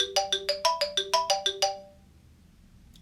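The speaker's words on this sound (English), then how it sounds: "We have the glockenspiel, which is very, very high with the metal bars." Very high glockenspiel notes with metal bars, played on an iPad xylophone app: eight or so quick, bright chiming tones in a rising and falling run, then a ringing fade into near silence, close and alone.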